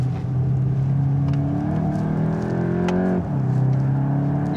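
A Mk8 VW Golf GTI accelerates on a wet, slippery track, its engine note climbing strongly through the revs. A brief dip comes at a gear change, then the pull resumes, loud and close, with no talk.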